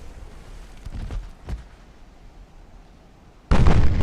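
Warship naval guns fire in Ultimate Admiral: Dreadnoughts, with a few deep booming shots and low rumbles, then a sudden loud, sustained barrage of blasts at the end.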